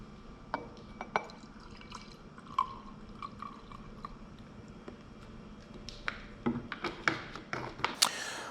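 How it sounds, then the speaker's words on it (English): Fuel treatment poured into a small measuring cup while winterizing a power washer: faint scattered drips and trickles, light clinks against the cup, and a brief splashing burst near the end, all quiet and close. "we're going to pour our 2 ounces into this jar right here, our little measuring cup"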